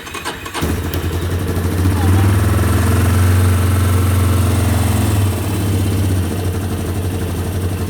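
A Yamaha Raptor 350 ATV engine cranks and catches with the choke on, then runs at a loud, close, steady idle with a deep throbbing note.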